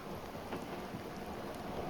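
Steady rain falling in Scotland, a soft, continuous hiss of drops with a faint low rumble underneath and no voices.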